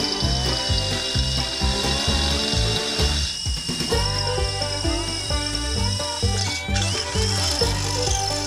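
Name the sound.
power drill punching holes in metal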